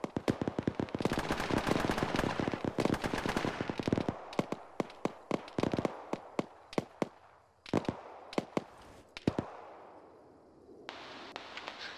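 Rapid bursts of gunfire in a military video game, dense automatic fire at first, then scattered sharp single shots and short volleys at varying distances, with no speech.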